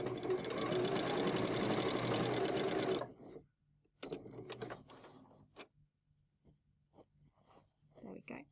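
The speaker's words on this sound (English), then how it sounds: "I'm going to use my free arm on my sewing machine, and that means I can place this under easily and just spin it round as I sew." Sewing machine running steadily through a quilted fabric box on its free arm, a loud continuous whirring burst for about three seconds, then quieter handling and a few short stitching bursts.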